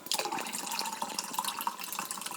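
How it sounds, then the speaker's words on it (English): Grapefruit drink splashes and trickles into a cup in a close, steady pour, bubbling and gurgling continuously for a couple of seconds with no talking. "grapefruit drink and you pour it into this cup"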